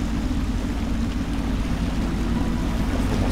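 Boat gliding through water in the video game Dishonored: a steady, dense rush of water and low hull rumble, close and unbroken, with no voices.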